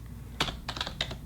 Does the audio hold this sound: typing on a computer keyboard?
yes